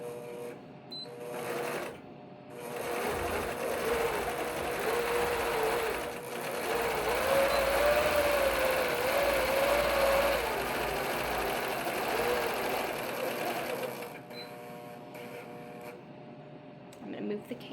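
A quilting machine basting down the side of a quilt, with a steady mechanical whir and stitching rhythm running throughout, close and moderately loud, with a pitch that rises and wavers in the middle and a person talking faintly over it.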